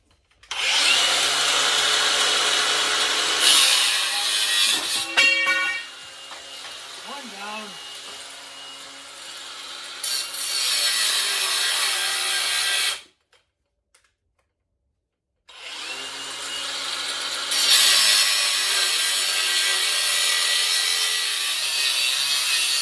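Power saw cutting wooden pieces for a body dolly for a 1972 VW Super Beetle, loud sustained blade whine in two long cuts separated by a brief silence, with some quieter handling noise between.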